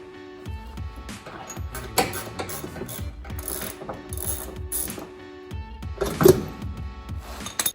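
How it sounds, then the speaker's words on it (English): A ratchet clicks in repeated bursts while loosening car subframe bolts during an air suspension install on a B8 Audi A4, close and fairly quiet, with rhythmic pawl clatter and occasional metallic knocks. "I was trying to loosen the subframe and bent this ratchet."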